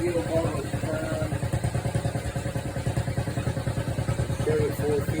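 A motorcycle engine, cold started after four days, runs at full throttle with the choke open, a fast rough pulsing chug that holds steady throughout, with a voice talking over it.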